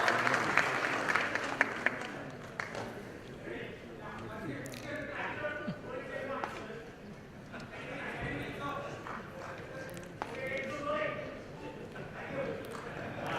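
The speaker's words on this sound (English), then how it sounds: "A big round of applause." An audience at a real estate awards ceremony applauds in a moderate, scattered clatter of clapping that rises and falls, with voices murmuring and speaking over it.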